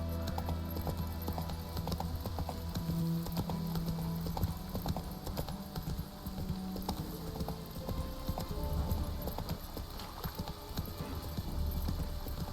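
Geralt's horse Roach galloping in The Witcher 3, rapid rhythmic hoofbeats pounding steadily on the ground alongside a low ambient game soundscape.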